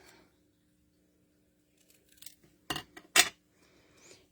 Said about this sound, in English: I'm just doing some little angle snips